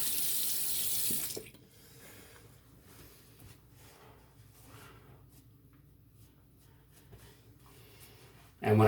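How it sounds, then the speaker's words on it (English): Tap water running loudly into a sink, then cutting off to quieter splashing and handling sounds as cold water is splashed on the face after a shave, with the tap gushing again at the end. "And I always splash my face with cold water after a good shave."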